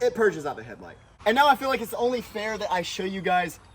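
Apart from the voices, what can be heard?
No distinct noise like a dog, phone or traffic.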